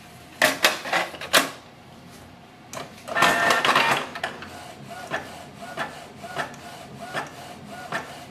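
A Canon Pixma G650 printer runs through a print job, with sharp mechanical clacks, a whirring feed sweep and a steady series of rhythmic ticks as the paper advances and is pushed out into the output tray.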